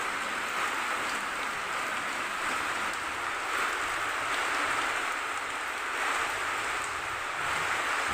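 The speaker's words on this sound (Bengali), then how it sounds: "মুষলধারে বৃষ্টি" A heavy downpour falls on a vegetable garden as a continuous, dense, even hiss that stays loud throughout, with no voices.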